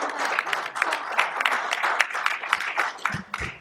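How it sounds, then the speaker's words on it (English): An audience claps at a Washington talk on religious liberty and the persecution of Christians, a close, continuous patter of many hands with no pause. "You should wait till I'm done to clap and see if you want to then."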